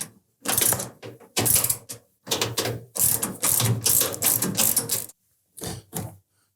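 A ratchet tightens the lower bolt on a Samsung washer's rear shock, giving bursts of quick, loud, close clicking in uneven runs separated by short pauses.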